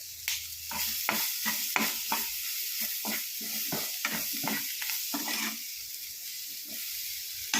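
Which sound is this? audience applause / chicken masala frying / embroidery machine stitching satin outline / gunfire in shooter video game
chicken masala frying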